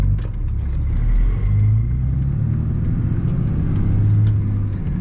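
A Cummins diesel truck with a six-speed gearbox pulls hard with a loud, deep engine rumble that holds steady and swells slightly over several seconds. The turbo spools up as it accelerates.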